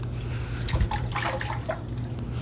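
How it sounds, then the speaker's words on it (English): Hair being dipped into a bucket of water during red hair colouring: one brief splash and slosh, then quieter watery movement close by. "So you just want to dip it in that water, in a bucket of water"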